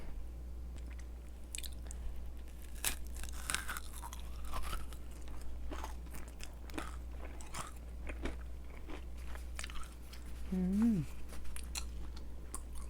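Crunchy yakgwa honey cookie bitten and chewed up close, a series of sharp crisp crackles and soft squishy chews repeating over several seconds against a quiet room hum, with a brief murmured voice near the end.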